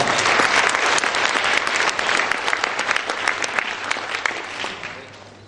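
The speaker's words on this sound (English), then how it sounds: "let's give a big round of applause for Joyce Wong" An audience at a youth conference breaks into loud, dense applause, close and full from the start, gradually thinning toward the end.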